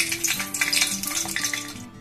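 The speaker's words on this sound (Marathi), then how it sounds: "तेजपत्ता टाकूया याच्यामध्ये।" Bay leaf dropped into hot oil in a kadhai, giving a steady close sizzle with light utensil clatter and a sustained low tonal hum underneath.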